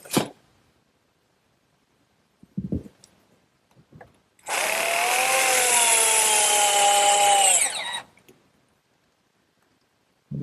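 A power drill drives fasteners into a wooden sandbox frame in a single loud, steady whirring burst of about three and a half seconds, with a few soft knocks and taps before it in an otherwise quiet workshop.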